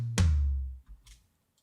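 Tom drum hit shaped with a transient shaper, transients raised and sustain slightly up: one firm, tight thump with a deep booming tail, followed by a faint trailing hit, heard alone.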